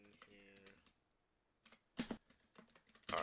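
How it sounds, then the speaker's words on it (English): Bursts of computer-keyboard typing while entering code for a Minecraft 1.13 command setup: scattered clicks, then sharper clustered keystrokes near the microphone, with some brief background sound between them. "let me just finish typing the code in here."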